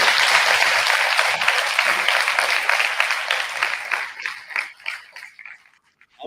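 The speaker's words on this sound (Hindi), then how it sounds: "तो आप लोगों को अगर इनकी टॉक पसंद आई और समझ में आई हो तो एक बार जोर से ताली दीजिए।" A crowd at a World Environment Day and Menstrual Hygiene Day event applauds after a talk, loud continuous clapping that thins into scattered individual claps and fades nearly to silence.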